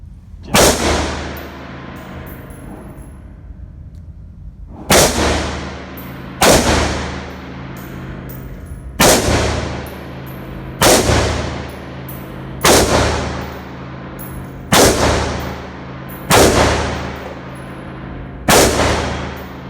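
An Israeli Galil rifle firing single rounds at a small outdoor bay, nine loud sharp shots spaced about two seconds apart, each ringing and echoing away before the next, close and alone with no talk.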